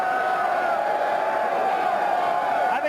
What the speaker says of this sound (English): You put them on the camera, and then they really want to get up and do some cheering.